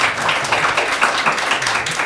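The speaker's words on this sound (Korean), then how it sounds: "큰 박수 부탁드리겠습니다" Audience applause at a university capstone design presentation award ceremony, a steady dense wash of many hands clapping throughout, fairly loud and continuous with no talk over it.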